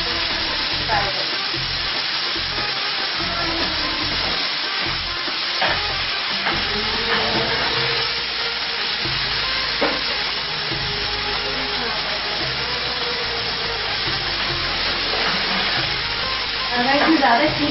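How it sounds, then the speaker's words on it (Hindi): Chopped chicken frying in a pan, with a steady sizzle and hiss running throughout, a few sharp stirring clatters along the way, and a rise in sizzle toward the end. "चिकन डाल देंगे, जो कि मैंने पहले काट कर रखे थे, उसको डाल के फ्राई करेंगे।"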